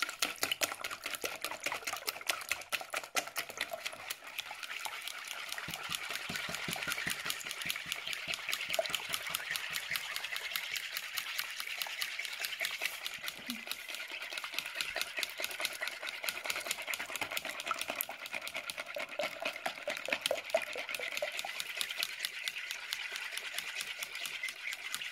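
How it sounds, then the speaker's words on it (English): Electric hand mixer beating chocolate cake batter with eggs in a bowl, a steady, fast buzzing whir that runs unbroken throughout at moderate level, with no talking. "hand mixer."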